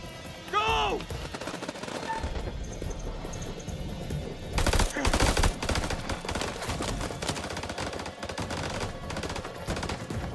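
Gunfire in a firefight: rapid bursts and single shots ring out repeatedly across the scene, loud and close, mixed with shouting voices and whistling ricochets.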